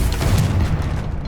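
A Confringo spell blast in Hogwarts Legacy lands as a dense, loud, booming burst that fills the whole moment, a rumbling explosive roar without any speech.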